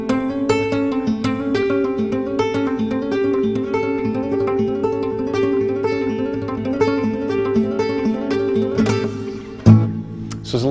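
A guitar plays a flamenco-style lick, a finger sliding back and forth between the minor third and major third, with steady plucked notes repeating over a sustained bass and a brief louder accent near the end.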